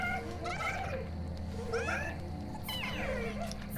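A cat-like Sudama creature in the game Nioh 2 meows three times, each call a rising and falling wavering cry, spaced about a second apart over a steady low game ambience.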